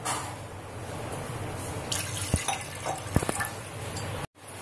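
Two glasses of water poured into a pressure cooker holding washed lentils for sambhar; a short, close splashing pour that ends abruptly, with no talking.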